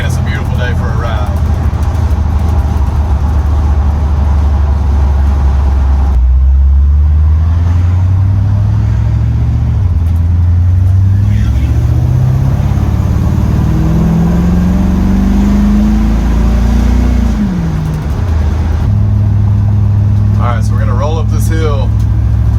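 A car out cruising on a sunny day, its engine holding a low steady drone with gear shifts and rising revs as it accelerates, close and continuous throughout.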